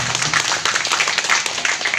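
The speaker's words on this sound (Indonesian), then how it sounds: "Tepuk tangan Bapak Ibu ya" Audience applause at a leader meeting in Pekanbaru, a dense, steady patter of many hands clapping together throughout, fairly loud and continuous.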